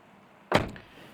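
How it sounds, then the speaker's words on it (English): A BMW car door pops open with a single solid thunk that fades quickly against near silence. "I'll pop the door open."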